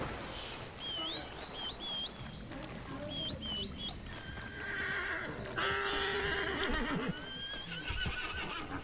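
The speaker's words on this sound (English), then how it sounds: "Come on, get on that stupid horse." A horse in the video game Red Dead Redemption 2 whinnies with a series of rising, wavering neighs, followed by snorts and hoof clip-clops, close and clear over ambient outdoor game sound.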